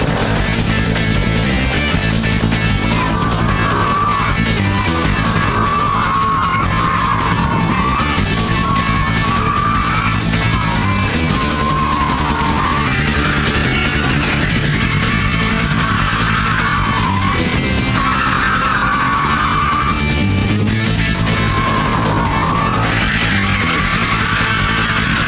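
A car power-slides on tarmac, its tyres squealing and skidding in long wavering bursts over a loud, continuous engine roar, close and sustained.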